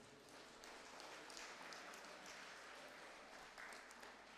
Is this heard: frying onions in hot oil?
no